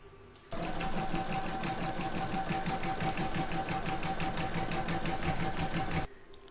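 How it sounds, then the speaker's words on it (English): An embroidery machine stitches a towel topper in a steady, rapid mechanical chatter of needle strokes that starts abruptly, holds an even rhythm close by for about five seconds, then stops. "I'm going to pop that into my machine and stitch round number 3 to attach it."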